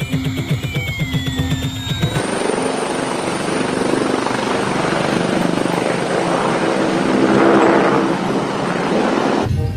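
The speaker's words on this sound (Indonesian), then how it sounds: "Wah, ini helikopter angkatan udara." An air force helicopter takes off, its rotor and engine building from a rhythmic chop into a loud, steady, broadband roar that stays close and sustained throughout.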